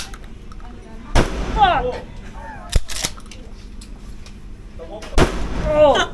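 Two loud, sharp gunshots about four seconds apart at a shooting range in Patong, each with a short ringing tail, between excited shouting and swearing from nearby men.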